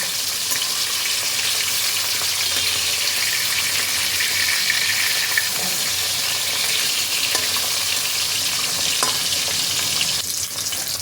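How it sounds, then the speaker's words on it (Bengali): Koi fish frying in hot oil for a koi macher jhol with cauliflower: a steady, loud, dense sizzle and crackle runs throughout, with a few scraping turns as the pieces are flipped, and no voices. "এভাবে উল্টে পাল্টে মাছগুলোকে ভালোভাবে ভেজে নিতে হবে"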